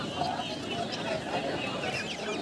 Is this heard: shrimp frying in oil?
no